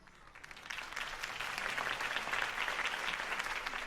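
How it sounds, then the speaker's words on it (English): Video game crowd applauding after a campaign speech, a soft, even wash of many hands clapping at a distance and swelling slightly as it goes on. "If only Mr. Wayne, my campaign's largest backer, could have heard that applause"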